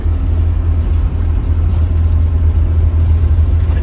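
A 1972 Volvo 144S engine pulling in fourth gear on the road, a loud, steady low drone with a strong bass hum and constant cabin rumble, no speech.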